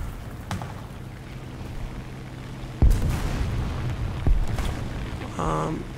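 Bombs from an Hs 123 A-1 dive bomber exploding in War Thunder ground realistic battles: two heavy booming blasts a second and a half apart over a constant engine drone, distant-sounding and alone without talk.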